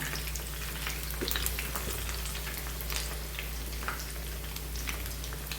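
Two chicken leg pieces deep frying in hot oil for homemade broasted chicken give a steady, close sizzle with scattered crackling pops throughout, and no voices are heard.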